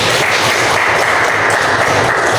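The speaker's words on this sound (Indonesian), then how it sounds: "tepuk tangan buat kita semua dulu" A classroom of students applauds together, a dense, loud, steady wash of clapping filling the whole stretch without pause.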